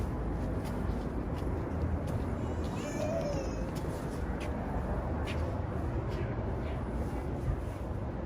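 A cat meows faintly once at a cat cafe in Brooklyn Heights, nearly buried in loud, steady street and traffic noise during an autumn walk.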